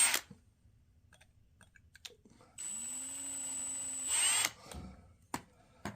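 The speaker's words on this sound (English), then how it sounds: "I will use a little bit larger bit and countersink the hole just a little bit to help that rivet bite" A drill fitted with a larger bit countersinks a rivet hole in forged metal for a candle holder, whirring steadily for about two seconds at close range among scattered clicks and handling knocks.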